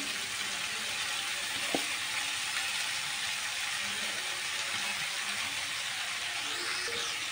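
Potatoes are stir-fried in a pan for a vegetarian chickpea and paneer dish, producing an even, steady sizzling hiss with a single sharp utensil knock early on.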